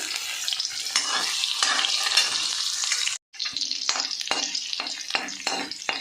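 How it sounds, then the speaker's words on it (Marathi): Crushed garlic sizzles and crackles steadily in hot oil with cumin, a loud, close frying hiss that cuts out briefly partway through, then resumes with soft stirring clicks. "लसणाची फोडणी देते ठेचून लसूण घेतला आहे"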